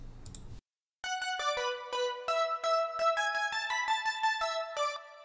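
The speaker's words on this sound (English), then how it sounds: "So for that, I reused the Juno 6 we had at the beginning" A Juno-6 synthesizer piano preset plays alone in a bright, bouncy run of short staccato notes from a song. A brief bit of speech comes first, then a short gap before the notes begin.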